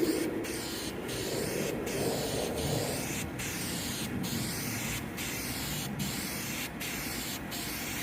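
A steady aerosol hiss of spray-can engine enamel primer being applied to an oil pan, continuous and close, broken by brief regular pauses as the nozzle is released and pressed again.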